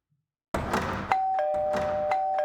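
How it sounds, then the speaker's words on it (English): A doorbell rings alone after a moment of silence, several bright chiming rings repeating at close range with a steady sustained tone between strikes. "I continued ringing the doorbell"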